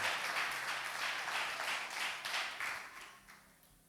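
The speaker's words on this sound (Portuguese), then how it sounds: "Vamos aplaudir o Senhor." A church congregation breaks into loud, dense applause at an anniversary service, many hands clapping together in rapid bursts that gradually thin and fade toward the end.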